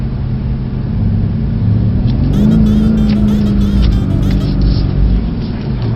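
A Mercedes-AMG C63S drifting on a track, its engine droning loud and steady with a rising rev held for a few seconds, while a person speaks faintly over it near the end.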